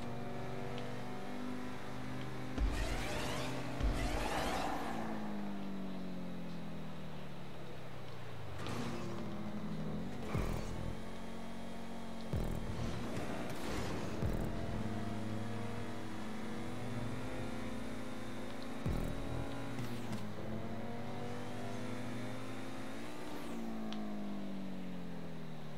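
Racing car engines in GTA V Online rev and drone continuously, with pitch sweeping up and down through gear changes and several sharp bursts as cars pass close by.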